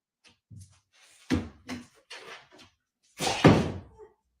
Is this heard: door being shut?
yes